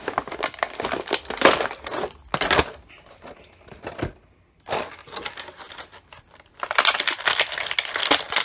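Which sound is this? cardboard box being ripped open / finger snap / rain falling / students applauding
cardboard box being ripped open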